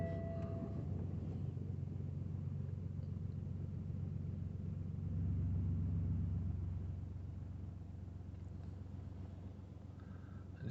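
A BMW 116d diesel engine idles after a drive belt replacement, a low, steady rumble heard at a moderate distance, swelling slightly midway and then settling.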